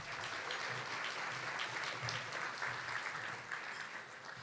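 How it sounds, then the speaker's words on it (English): An audience applauds at an awards luncheon, a dense, steady wash of many hands clapping throughout, moderately distant and sustained. "Give yourselves a round of applause"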